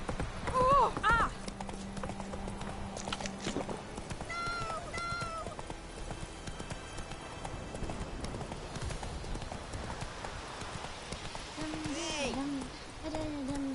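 Horse hooves clip-clopping at a steady run in The Witcher 3 game, a continuous rhythmic beat under background music and game sounds, with a voice urging the horse on and crying out.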